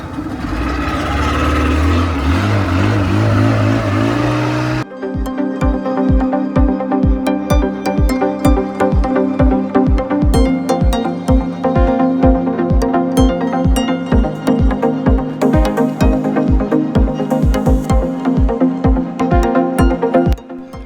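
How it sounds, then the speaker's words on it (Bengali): A loud, steady speedboat motor drones throughout a ride on the sea at Digha, with rapid rhythmic thumping pulses after the first few seconds like a hull slapping across waves at speed. "আজকেও আবার চলে এসেছি এই স্পিডবোট রাইড করতে"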